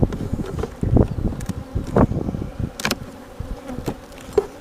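Honey bees buzz densely around open hives as frames of honey are moved during supering in Tiffin, Ohio, a steady close swarm hum with individual bees zipping past the microphone.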